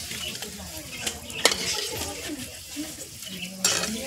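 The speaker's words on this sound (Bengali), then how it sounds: "এইভাবে আমি আলুগুলো সবগুলো ভেজে নেব" Potatoes fry in hot oil for homemade potato chanachur, a soft sizzle under clinks of a metal spoon and utensil scrapes against the pan, with a couple of sharper knocks near the end.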